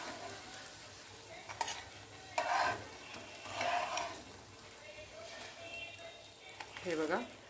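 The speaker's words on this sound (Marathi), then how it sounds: "आता अशाच पद्धतीने सगळे वांगे आपल्याला तेलामध्ये फ्राय करून घ्यायचे" Eggplant slices fry in oil in a pan, with a low steady sizzle, a few louder bursts and occasional utensil scrapes, while a voice talks quietly nearby.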